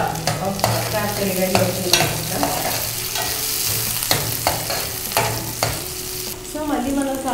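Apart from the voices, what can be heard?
mint leaves sizzling as they fry in a pan for crab curry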